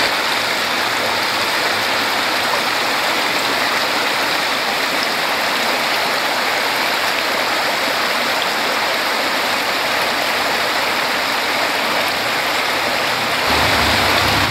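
Water tumbles steadily along a stream in the woods, a dense, constant rushing hiss that stays close and fairly loud throughout, with no voices.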